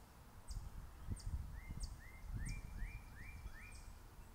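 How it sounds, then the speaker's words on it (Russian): Small birds sing in a flowering garden in May. A bird repeats a bright, rising whistled phrase about every half second, with lower chirps between, over rustling close to the microphone. No one speaks. "Слышите, как птички поют?"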